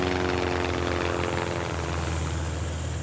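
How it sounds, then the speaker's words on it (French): A small airplane flying over the Savoie region, its propeller engine droning steadily and fairly loud for the whole stretch, with no voices. "Aux commandes de cet avion, Jacques Maria."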